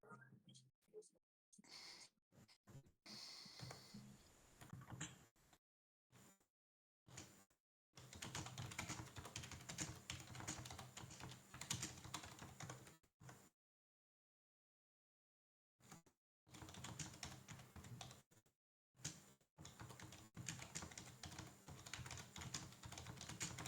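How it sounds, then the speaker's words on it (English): Rapid, bursty typing on a computer keyboard during an online team strategy tournament, close clatter in stretches broken by pauses and one long silence, with occasional breaths. "I hear Swarm typing furiously."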